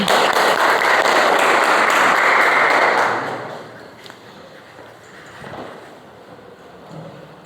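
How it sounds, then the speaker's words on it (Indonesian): A classroom of pupils clapping their hands together in a dense burst for about three seconds, then fading to scattered taps and quiet room noise. "silahkan tepuk tangan untuk kita semuanya"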